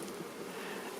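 A dense, continuous buzz of many honeybees swarming out of a freshly opened hive, close and loud throughout the short moment.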